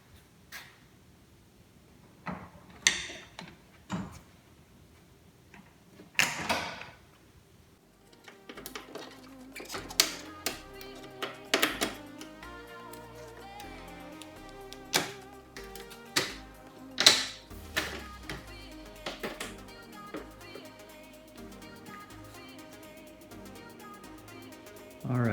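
Plastic trim piece being fitted onto a Ram 1500 headlight housing, a scattered run of sharp clicks, taps and snaps of varying loudness, close by, with a few quieter knocks at first and denser clicking later.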